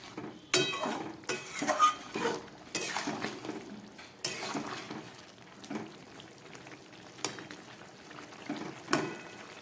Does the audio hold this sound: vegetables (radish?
yes